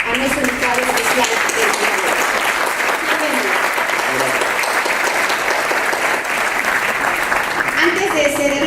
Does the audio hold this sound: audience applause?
yes